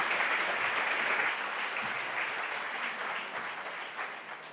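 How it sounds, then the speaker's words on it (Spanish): An audience gives sustained applause to welcome a speaker at a talk on patients and healthcare reform, a dense wash of clapping that starts strong and gradually fades over several seconds. "vamos a darle un aplauso y vamos a dar la bienvenida a Roberto"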